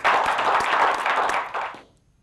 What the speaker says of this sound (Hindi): ज़ोरदार तालियां बजाएं आप अरुण शकुन के लिए